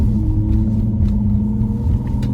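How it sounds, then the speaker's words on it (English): A Dodge Charger with a faulty pedal box and engine warning light on sits with the accelerator floored, giving a loud, steady low rumble that holds at limited revs without climbing. "And I'm flooring it right now. And that's the most I get on my RPMs."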